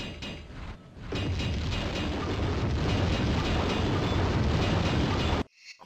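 A loud, sustained rumbling blast from an explosion in Tomb Raider II, a dense roar that swells after a second, holds for several seconds, then cuts off abruptly.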